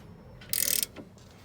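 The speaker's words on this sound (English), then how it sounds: "take out the two 15mm bolts, one at the bottom and one at the top" A ratchet undoes the 15mm bolts on a Ford ST170 brake caliper, giving one short, close burst of rapid ratcheting clicks that lasts about a third of a second, with a faint tap just after.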